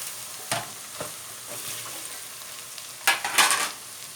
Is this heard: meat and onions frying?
yes